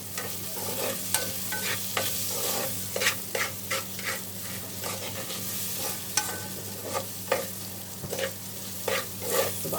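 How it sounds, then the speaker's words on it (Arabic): Rice frying in ghee is stirred in a pan, with a steady sizzle under repeated scraping strokes of the spoon, close and fairly quiet. "اشوح في الرز كده والسمنه ينشف اهو"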